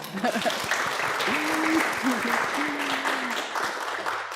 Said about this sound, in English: Several of them welcoming applause